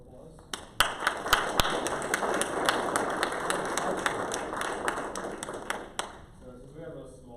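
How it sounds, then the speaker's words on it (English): Scattered clapping from a small crowd at a deep learning meetup, sharp individual claps over a steady wash of handclaps that runs for several seconds before ending abruptly, with a faint room murmur left after. "everyone give them a round of applause."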